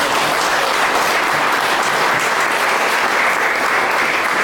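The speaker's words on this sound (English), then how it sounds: "How about giving them a round of applause?" Steady, sustained applause from a large crowd, loud and continuous throughout with no pauses or voices standing out.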